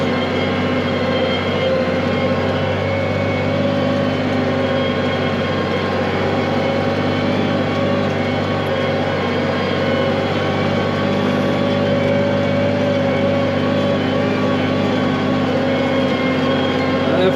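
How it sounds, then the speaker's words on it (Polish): A tractor drags a cultivator at depth through a dry field, its engine a steady, loud drone with constant low rumble that holds unbroken for the whole stretch, with no voices over it. "fajnie, że ciągnik daje radę ciągnąć na taką głębokość ten kultywator"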